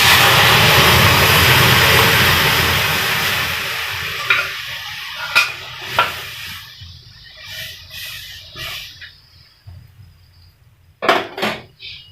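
Masoor dal is tipped into onion and garlic frying in a pan, giving a loud rushing sizzle that gradually subsides, followed by scattered scraping stirs and knocks of a spoon.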